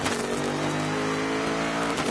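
A GT race car brakes hard and drops down through the gears on the Monza circuit in Italy during qualifying, its engine loud and close with steady harmonic drone and a brief rasp, no voices.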